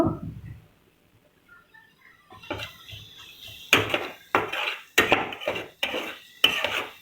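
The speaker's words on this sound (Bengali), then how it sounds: "এই পেঁয়াজ কুচি, একটু ঝাল একসাথে দিয়ে দিলাম, দিয়ে একটু নাড়াচাড়া করব" A utensil stirs chopped onion and spices in oil in a pan, giving about half a dozen sharp metallic scrapes and clanks in an irregular rhythm after a quiet start.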